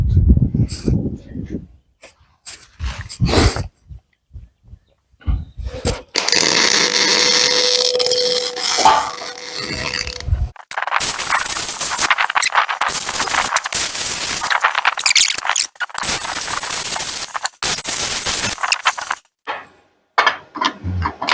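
Tack welding on a custom-built steel grill guard: short crackling arc bursts, then longer sustained sizzling welds with brief gaps, loud and close, with scattered clanks and knocks at the start.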